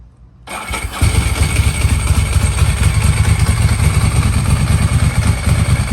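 A vintage Italian motorcycle engine cranks and fires, then settles into a loud, steady, throaty idle close by.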